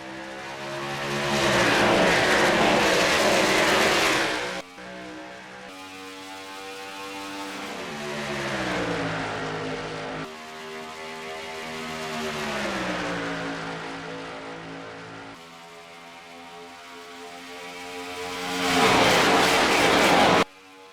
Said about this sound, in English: They're going to lead the field to the green flag, and race number 4 is underway from Fontana.